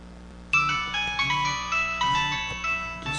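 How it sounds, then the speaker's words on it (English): A telephone rings in a series of loud electronic melodic chirps starting abruptly after a short quiet lead-in, repeating in bursts with no speech. "just a second while I get the phone"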